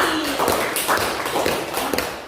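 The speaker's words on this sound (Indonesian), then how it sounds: "Tepuk tangan untuk kelompok Mawar dan kelompok Matahari." A small group of teachers in a presentation session claps together in steady applause, the sharp claps close and continuous for a couple of seconds.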